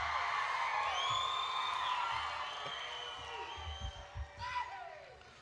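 Crowd cheering and whooping at Hawaii Pacific University's Spring 2017 commencement ceremony, a steady roar of voices with high yells that fades slightly, then brief bursts near the end.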